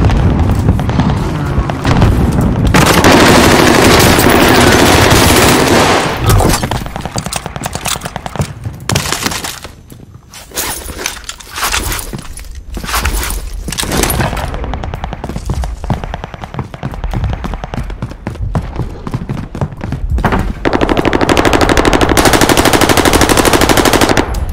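Dense, loud gunfire from the video game Warzone: sustained machine-gun bursts and booming shots fill the scene almost continuously, easing briefly midway before heavy automatic fire returns.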